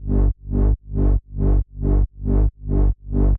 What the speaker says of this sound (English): So just this sliding bass is going to sound like this on its own.